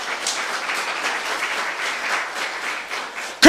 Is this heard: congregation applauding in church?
yes